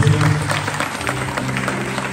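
A conference audience applauds to welcome a preacher in Leeds, a brief burst of steady clapping from a crowd heard alone.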